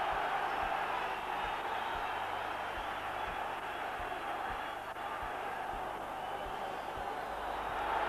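A huge football crowd roars at Celtic Park for a Celtic v Rangers match at kickoff. The steady wash of crowd noise holds throughout, with faint commentary-like voice underneath.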